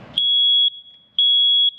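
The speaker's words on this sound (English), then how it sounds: "check their smoke detectors" A smoke detector sounds two loud, piercing beeps, each about half a second long, separated by a short gap in an otherwise quiet room.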